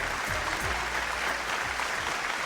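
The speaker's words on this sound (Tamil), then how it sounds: "ஒரு பலத்த கைத்தட்டல் கொடுத்துடலாம்" An audience applauds at the Sun Kudumbam Virudhugal 2025 awards show on Sun TV. The clapping is steady and packed, with low thumps under the crowd.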